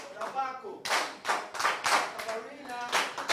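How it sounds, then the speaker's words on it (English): Clapping from a small group in a conference breakout room, a few bursts of hand claps in uneven pulses, mixed with a voice speaking over the start and end. "Let's applaud Chinendu once again."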